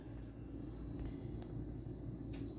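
The optical drive of a Dell Optiplex GX400 desktop computer gives off a steady low rumbling whir with a few faint clicks, running continuously and quietly with no talk.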